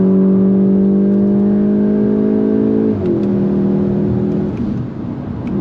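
A 2025 VW GTI Mk8.5 hatchback accelerates hard, its engine note climbing steadily, dipping briefly at a gear change, then pulling up again, loud and close from inside the car.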